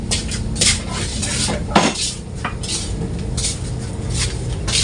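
A lid clanks down once onto a cooking pot of boiled eggs in soy sauce, the sharp metal knock landing over a steady close hiss of simmering.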